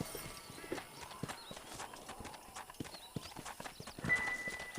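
Horse hooves clip-clop at a steady walking rhythm in the video game Red Dead Redemption, soft and continuous, with faint game ambience underneath.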